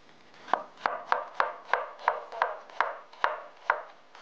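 A knife chopping large square fried tofu into long thin strips on a cutting board, about ten crisp, evenly spaced cuts at a steady rhythm, close and clear with no talking.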